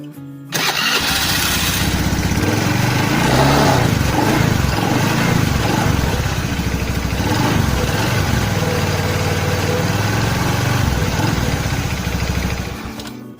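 A Honda Beat FI scooter engine cranks and catches after CVT reassembly, then settles into a steady buzzing idle up close, running evenly before cutting off near the end.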